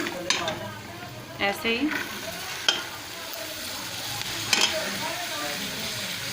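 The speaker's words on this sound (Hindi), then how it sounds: "इसको हम चम्मच हिलाएंगे। ऐसे हम इसको हिलाएंगे और 1 से 2 मिनट के लिए इससे फ्राई करेंगे।" Cluster beans (gware ki phaliyan) fry with spices in a pan while a spoon stirs them, producing a soft sizzle broken by a few sharp clinks and scrapes of metal on the pan; a brief spoken phrase occurs.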